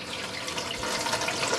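A motorhome washroom sink tap runs in a steady, soft hiss of flowing water, faint and unbroken for a brief moment.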